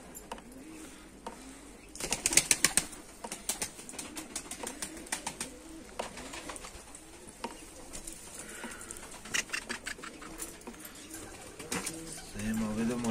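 Pigeons coo in low, throaty calls close by, with a burst of flapping wings early on and scattered fluttering and shuffling throughout.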